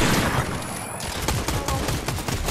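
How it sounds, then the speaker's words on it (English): Rapid bursts of gunfire in the video game Fortnite, loud and dense, with quick repeated shots rattling through the whole stretch. "I hear gunshots."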